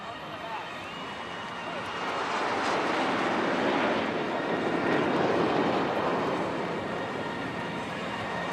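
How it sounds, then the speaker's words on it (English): Indian Air Force jets flying in formation at an air show over Marina Beach, Chennai, make a broad roar that swells louder midway and holds, heard from a distance while an announcer talks over it. "You will see the aircraft forming the shape of the English letter A."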